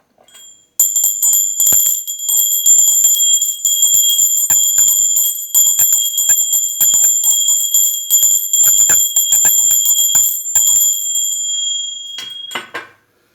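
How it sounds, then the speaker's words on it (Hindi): A bright metal temple bell rings repeatedly in quick, steady strokes with a sustained high shimmer, loud and close, stopping abruptly near the end. "टन टन टन टन करके न जाने कब से मंदिर की घंटी की आवाज आ रही है।"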